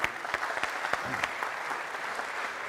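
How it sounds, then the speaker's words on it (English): Audience applause for Paddy at a startup talk, a dense wash of clapping at moderate level with a few sharper individual claps standing out early, steady throughout. "Give a hand of applause to Paddy."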